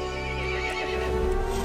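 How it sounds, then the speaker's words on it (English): A horse neighs in a drawn-out whinny in Resident Evil Village, with hooves clip-clopping underneath, close and clear. "The horse grew angry and summoned the other monsters."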